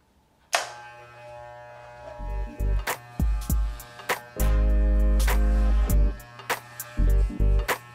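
Electric hair clippers fitted with a number 7 guard (7/8 inch) buzz through hair in a DIY buzz cut, sounding in repeated short close passes with brief pauses, sometimes held for a second or more.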